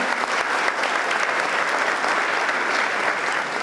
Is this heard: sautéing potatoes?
no